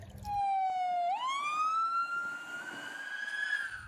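A toy ambulance siren, a single electronic tone that dips, then sweeps upward and holds a high wavering wail, clear and close with little else around it.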